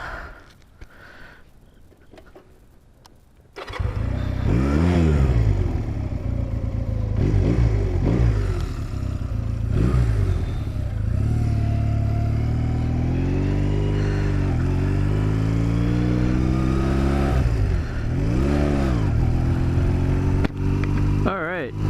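A Honda Rebel motorcycle engine starts and runs close by: a steady low rumble with several revving swells rising and falling over it, continuous and loud throughout.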